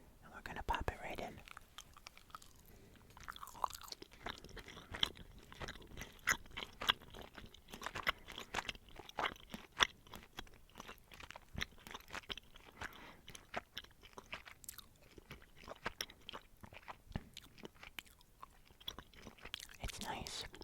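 Orbit peppermint gum chewed close to the mic, a steady run of wet, crunchy bites and soft mouth clicks across the whole stretch, with faint whispery breaths between chews.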